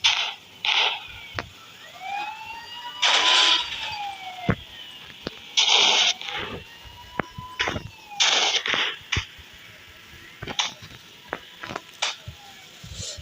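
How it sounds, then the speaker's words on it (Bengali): Police car sirens in the Indian Bike Driving 3D video game wail in repeated rising and falling sweeps, loud and close, with short bursts of harsher sound breaking in between. "এই দিক দিয়েও কিন্তু আর 2টি পুলিশের গাড়ি চলে আসতেছে"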